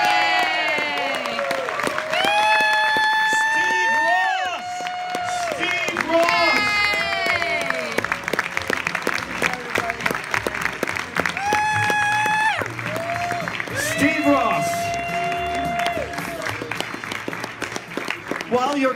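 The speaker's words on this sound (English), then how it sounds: "While you're clapping for people," Sustained audience applause and cheering fill a theatre at an awards ceremony, dense clapping throughout with excited shouts and voices calling out over it.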